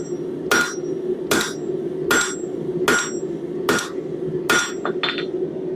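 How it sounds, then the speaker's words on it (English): A hammer strikes steel hook stock on an anvil during forging, six sharp ringing blows at an even, unhurried pace, followed by a couple of lighter quick taps, close and clear with no talking. "I can kind of clean my material up at the same time as I'm forging it"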